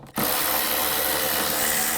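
A 10mm socket tool removes bolts from the wiper transmission panel of a 2000-04 GMC Yukon, starting abruptly into a loud, continuous grinding whir that holds steady to the end.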